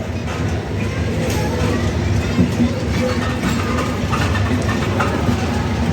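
The Nil Sagar Express pulls out of a station with a mixed Chinese-built rake: a steady, loud rumble of wheels and engine that runs unbroken throughout, with faint clatter on top.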